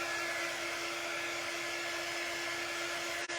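A hair dryer blowing steadily on a black-painted frame, a loud, even whir with a constant tonal hum, running alone without pause until a brief dip near the end.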